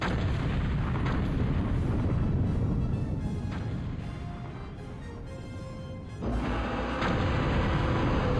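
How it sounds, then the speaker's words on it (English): Artillery fire in the video game Total Annihilation, a dense continuous rumble of booming shots and explosions, briefly easing midway before swelling loud again, no talk. "Artillery, the best way to play any game ever."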